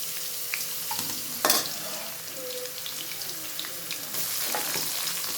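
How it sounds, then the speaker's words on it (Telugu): Chopped onions frying with tempering spices in a pan, a soft steady sizzle with a brief louder scrape or clatter near the start and light stirring noises, fairly quiet. "ఇప్పుడు మనం వేసుకున్న పోపు దినుసులు హీట్ ఎక్కిన తర్వాత ఆల్రెడీ పచ్చా పచ్చా కట్ చేసి పెట్టుకున్న ఆనియన్స్ వేసుకోవాలి"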